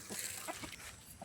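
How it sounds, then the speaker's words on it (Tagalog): Faint, soft clucking from a chicken on a farm, with a few low murmuring calls over a quiet background. "Kaya na yung manok natin."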